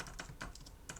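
Quick, crisp keystrokes on a computer keyboard while a code comment is typed, a few close clicks in an uneven rhythm over a quiet room.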